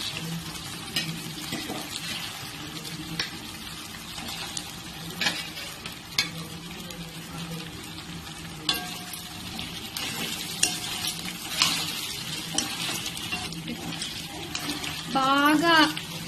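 Partly cooked chicken being stirred in a pan for Andhra-style biryani, a soft sizzle under repeated spoon scrapes and knocks against the pan, with a brief squeak near the end.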